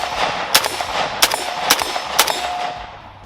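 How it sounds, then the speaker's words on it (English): A 5.56 AK rifle fires four evenly spaced shots, each followed by a sharp metallic clang from a steel target. The ringing hits sound fairly loud over steady background hiss. "while I was shooting at that steel"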